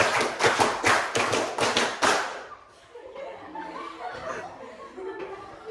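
A class does a counted clapping game, a quick run of sharp claps in a burst, then fading into children's chatter and laughter in the room.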